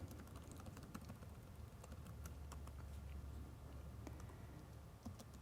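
Steady keyboard typing while entering program code, quick soft key clicks in a continuous patter, faint and a little distant over a low room hum.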